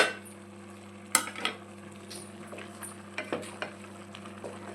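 Chicken masala being stirred in a pan gives soft frying hiss beneath occasional scrapes and clinks of a spoon against metal, fairly quiet and close.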